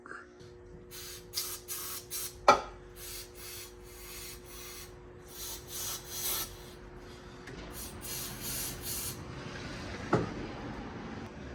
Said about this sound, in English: I'll just spray some starter fluid in each of the carbs